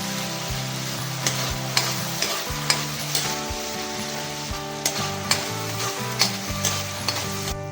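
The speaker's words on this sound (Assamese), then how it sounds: "ভালকৈ ভাজিলেহে টেষ্টফুল হ'ব তৰকাৰীখন।" Chicken curry base frying in hot oil while being stirred, a continuous close sizzle broken by regular scraping knocks of the utensil against the pan, with no voices.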